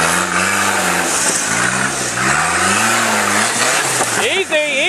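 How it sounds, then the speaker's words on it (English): Rock crawler engine revving hard on a rocky trail, its pitch sweeping up and down as the turbo spools, loud and continuous with people talking over it. "Is that the turbo? Turbo kicking in."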